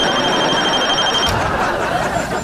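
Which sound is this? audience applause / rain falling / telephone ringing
telephone ringing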